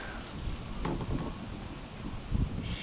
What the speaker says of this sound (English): It is a nice windy, stormy day.